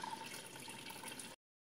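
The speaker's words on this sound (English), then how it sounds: "Back up and see the water's flowing." Water pours steadily back into an aquarium tank during cleanup after green hair algae, a soft continuous splashing flow heard alone at close range before it cuts off abruptly.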